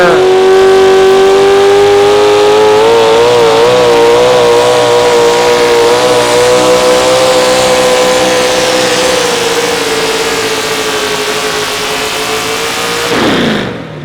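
A modified 4x4 pulling truck at an Outlaw Pulling event in Wisner, Nebraska, roars at high revs in one long, loud, sustained pull, its pitch sagging slowly before the engine cuts off abruptly near the end.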